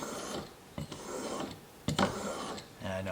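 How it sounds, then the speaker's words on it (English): A chisel rasps against a fine sharpening stone in soft, rubbing strokes, close and fairly quiet, with a few sharper scrapes along the way. "stone has like a finer, smoother feel to it to restore that edge on the chisel"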